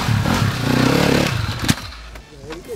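A motorcycle pulls away as a learner rider lets the clutch out, the engine note rising and then easing off, close by and fairly loud, with a voice speaking over it.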